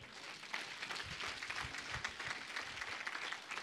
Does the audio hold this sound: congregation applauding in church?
yes